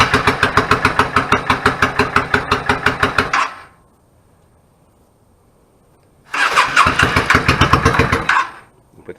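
A 1999 Yamaha VStar 650 Classic with a clogged pilot/idle jet is cranked on full choke: a loud, close, rhythmic chugging burst lasts about three seconds, falls silent, then a second cranking burst of about two seconds follows.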